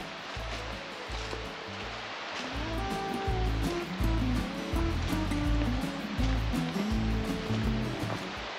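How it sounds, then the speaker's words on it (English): Loud, steady rushing of stream water close by on the Black Forest Trail, a continuous churning roar with a low rumble underneath, no voices. "the water's so loud"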